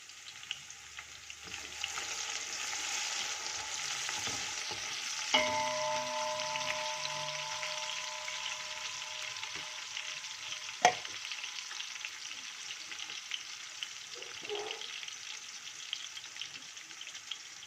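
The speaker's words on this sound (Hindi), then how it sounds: "प्याज़ों को अच्छी तरह से भून लेते हैं। मैंने ज़रा सा घी ऐड किया है।" Onions fry gently in a little ghee in a pot for chana pulao, giving a soft, continuous sizzle with occasional stirring scrapes and a single metallic clink, no voices.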